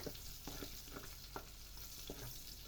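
Garlic and ginger sizzling in a pan with chicken skin for ginisang monggo, a low, steady fry hiss broken by a few soft stirring scrapes, fairly quiet with no talking.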